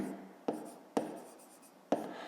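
Three sharp pen taps land on paper at even intervals as a math answer is written out by hand, each followed by a soft scratch, quiet and close with no voice.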